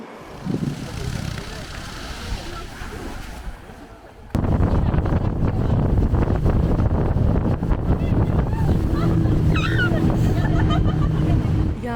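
A small excursion boat on a coastal cave and grotto tour in southern Portugal chugs along, loud motor and wind noise dominating after a quieter opening with water and distant voices.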